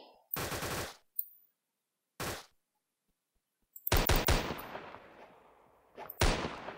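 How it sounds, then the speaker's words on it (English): Rapid machine gun bursts crackle in a Roblox zombie game, several short sharp volleys spread across the clip with brief silences between them, loud and close, and no talking. "Seriously, he has a machine gun."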